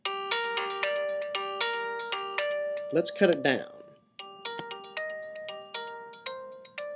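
A soloed Rhodes electric piano in Reason plays a bouncy chord pattern of bell-like notes, briefly interrupted by someone speaking, then resuming at a changed level.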